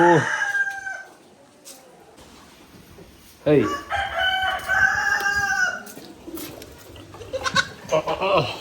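Chickens around a rural Maharashtrian house cluck and call in loud close bursts at the start and again mid-clip, with quieter stretches between and a person talking at times.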